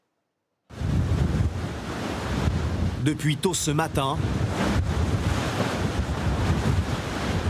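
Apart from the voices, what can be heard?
waves crashing on the Quiberon seawall during a storm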